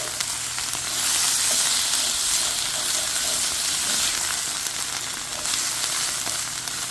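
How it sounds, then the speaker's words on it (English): Red wine poured into a hot pan to deglaze it, bursting into a loud, steady hiss and sizzle that holds for several seconds with no talking. "I'm going to pour my red wine in there to deglaze my pan"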